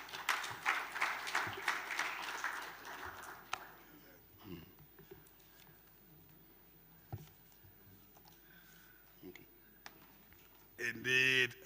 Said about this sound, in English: a round of applause to our moderator